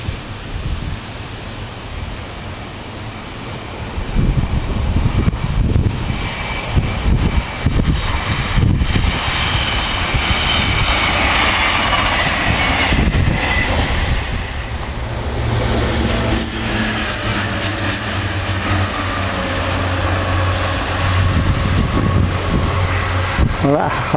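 A Hull Trains passenger unit passes on the far line at a junction, a broad rising roar that swells after a few seconds and holds steadily, with wind noise and a faint high whine toward the end.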